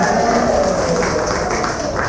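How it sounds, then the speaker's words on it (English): Continuous applause from the audience at a poetry book launch at Some-Antics, dense and steady at close range, with faint voices mixed underneath. "keep the applause going."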